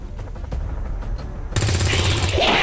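Soldiers in the video game XCOM 2 open fire, first with a rapid rattle of close gunshots, then a louder, denser burst of automatic fire that continues to the end.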